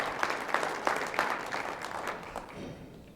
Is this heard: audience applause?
yes